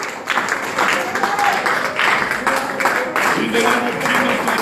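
A church congregation claps their hands in a quick, steady rhythm, a dense patter of many palms close by, mixed with voices speaking and calling out over it.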